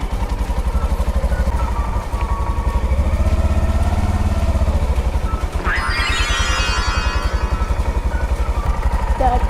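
Honda Monkey motorcycle with a manual clutch idling then pulling away, a close, loud, steady single-cylinder putter with a rising rev partway through, under brief talk.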